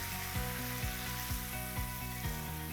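Cream sizzling and bubbling in a hot pan with white wine, a steady broadband hiss with soft rhythmic pulses, close and fairly quiet, without talk.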